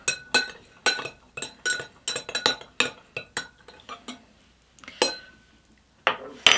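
A spoon stirs hojicha roasted green tea powder in a cup, giving a quick, irregular series of bright clinks against the cup, close and clear, with short pauses between bursts.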